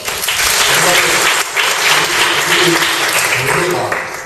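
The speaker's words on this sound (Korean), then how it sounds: "공감한 박수 한번 쳐주세요." A church congregation gives a round of applause, dense clapping that stays loud and steady throughout, with voices talking beneath it.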